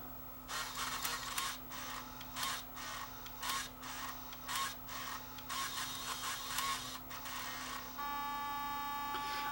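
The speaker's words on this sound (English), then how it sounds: "So it unloaded the tape, capstan motor turned, I saw the drum motor come on" A Sony TCD-D3 DAT recorder with a suspected mechanism fault runs its tape transport: a series of rhythmic whirring motor bursts and clicks, close and fairly quiet, ending in a steady whine.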